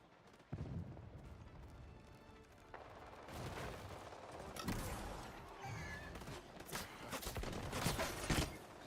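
Gunfire in a competitive video game shooter, bursts of rapid shots and thuds, some closer and louder, others more distant, building in intensity, with no clear talking.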